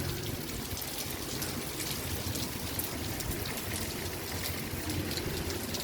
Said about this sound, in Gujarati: વરસાદ ચાલુ છે મને જોવા દે